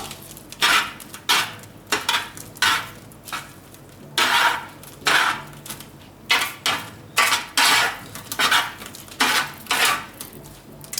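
Vegetables sprayed with oil and pepper are tossed in a dish with a utensil, producing loud, rhythmic bursts of clinking and scraping against the dish, with short pauses between strokes.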